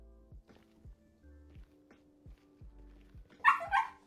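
A dog gives two short, loud barks near the end after a few seconds of quiet soft tapping.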